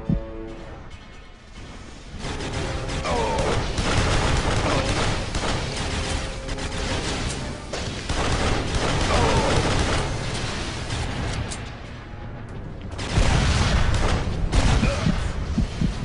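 Dense, loud gunfire and crashing impacts from the Duke Nukem Forever video game, a pistol among them, sustained in rapid bursts for most of the stretch with little letup.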